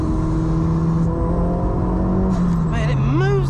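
A 370bhp Mk1 Ford Focus RS van with a Forge valve pulls hard with a loud, steady engine drone, then rising whooshes and fluttering turbo chatter as the pitch swoops near the end.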